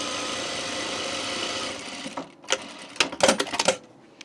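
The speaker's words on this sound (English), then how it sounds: "And now I can sew these 2 remaining edges together" A home sewing machine runs a steady whirring stitch along the edges of a jean jacket, then stops and gives way to a few sharp clicks and taps as the fabric is handled.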